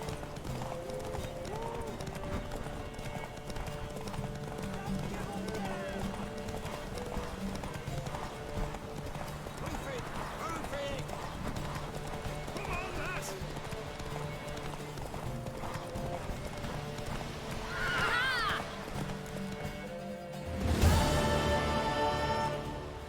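Hooves clip-clop in a steady galloping rhythm under background music in a video game, The Witcher 3, with a brief burst of noise near the end.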